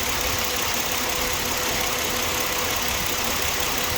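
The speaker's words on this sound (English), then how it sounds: "Yeah, I have a quiet engine again." A 2007 Ford Explorer engine idles steadily after a coolant leak repair, a constant, even mechanical hum that is close and moderately loud, with no voices over it.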